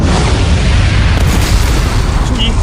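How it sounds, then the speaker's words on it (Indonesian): A sustained, loud booming blast from an electromagnetic cannon firing and exploding in a game, a dense roaring burst that fills the whole moment without pause. "itu meriam elektromagnetik"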